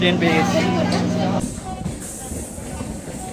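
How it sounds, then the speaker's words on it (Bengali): A train runs on a suburban rail line to Sealdah with a loud, steady rumble and hiss. A near voice talks over it at the start, then the sound fades to a quieter noise. "ট্রেন"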